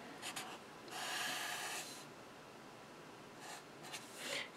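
A pen sketching a graph on paper, faint scratchy strokes in short bursts with one longer stroke, quiet and close with no talking.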